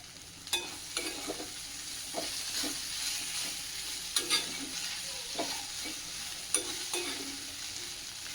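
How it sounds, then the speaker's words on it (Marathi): Okra (bhindi) stir-fried in a pan while being prepared as a vegetable dish, with a soft continuous sizzle under periodic sharp scrapes and clinks of a spatula turning the pieces, close up and with no talking. "अजून साधारण पाच मिनटं अशीच आपण छानपैकी परतून घेऊयात"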